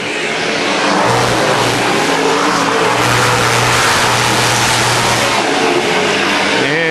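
Race cars battling wheel to wheel at Double X Speedway, a loud continuous roar of engines revving and passing on the short track, without any voices.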